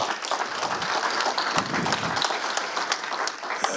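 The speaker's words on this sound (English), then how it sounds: "Can you clap it up for them today?" Audience applause at a community meet-and-greet for a violence-prevention group, steady dense clapping with some whoops, filling the room for a few seconds without speech.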